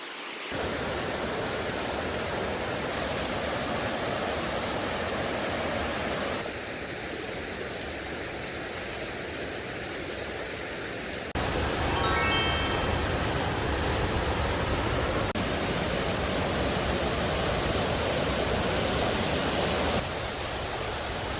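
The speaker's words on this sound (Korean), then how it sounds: "왼쪽에서 물소리가 정말 시원하게 들려서 한번 들렀다 가보도록 하겠습니다" A mountain stream beside a Seoraksan trail rushes in a steady, full, hissing flow, loud and close, with no voices and only a faint shift in texture partway through.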